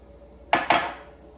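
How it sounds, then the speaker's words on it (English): Two quick metallic clinks of a spoon against a bowl or jar while stirring milk into overnight oats, close and fairly loud, followed by quiet. "we're going to give this a really good stir"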